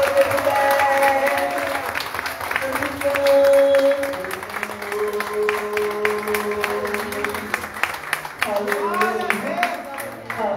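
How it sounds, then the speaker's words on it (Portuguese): A church congregation applauds, the clapping mixed with cheering and voices, while music and sung tones carry on over the crowd throughout. "Você pode dar a melhor salva de palmas que você puder."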